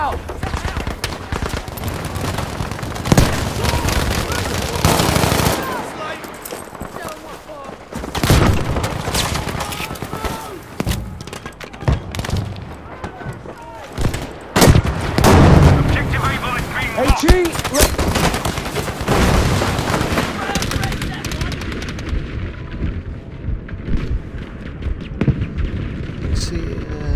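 Bomb and dynamite blasts mixed with bursts of gunfire in the multiplayer shooter Battlefield V, loud and dense with repeated booms and rattling shots over about half a minute, players talking over the action.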